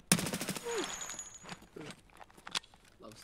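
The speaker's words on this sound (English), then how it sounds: "Is that you shooting fire?" Sharp bursts of video game fire-shooting gunfire crack at the start, then scattered quieter shots follow under fragments of talk.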